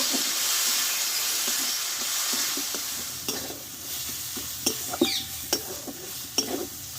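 Tomato, ginger and turmeric sautéing in a pan with a steady hiss and sizzle, while a spoon stirs and scrapes with several sharp taps against the pan, close and without speech.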